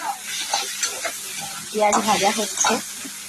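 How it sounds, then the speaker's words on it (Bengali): Onions frying in a pan with spices, a steady sizzle carrying soft scraping and stirring strokes that swell louder in the second half, fairly close with no talk. "পেঁয়াজ ভাজা হচ্ছে"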